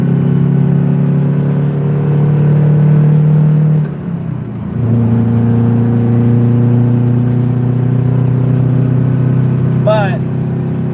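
Close engine drone inside a manual car pulling onto a highway, revs holding steady then dropping briefly at a gear change before rising again as it accelerates, loud and continuous.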